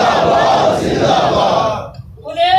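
A large religious gathering chants a slogan back in unison, a loud massed roar of voices from nearby that holds for about two seconds, dips, then swells again.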